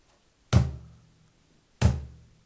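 Two deep, booming bass strokes struck on the center of a cajon, evenly spaced and played alone, each with a short resonant decay.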